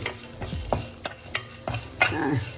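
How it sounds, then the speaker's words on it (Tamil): A spoon scrapes and stirs grated coconut roasting in a pan for garlic Mysore rasam, with faint sizzling and irregular close scraping strokes. "இதை தேங்காயை நல்லா வறுத்துருங்க"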